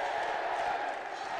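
Crowd noise at a women's light flyweight boxing quarterfinal between the Philippines and Thailand at the 2019 SEA Games, a steady roar of many voices with a faint commentator voice layered over it.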